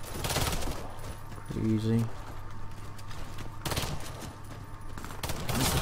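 Revolver gunfire from the Python in the shooter Warface, sharp game shots scattered through the clip alongside in-game effects, with someone talking over the action.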